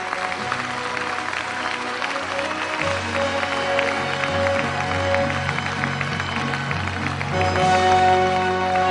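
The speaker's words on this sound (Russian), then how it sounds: "А вот здесь аплодисменты от всех вайнахов должны быть очень и очень громкими." A hall audience at a presidential address in Ingushetia applauds steadily over sustained music, the clapping forming a continuous crackling bed that grows slightly louder toward the end.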